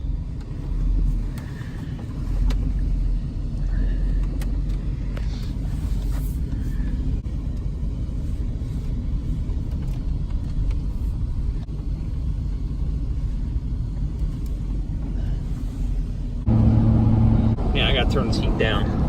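A Chevrolet K1500 pickup fitted with a Flowmaster 44 muffler drives along, its low exhaust rumble droning steadily from inside the cab and growing louder toward the end.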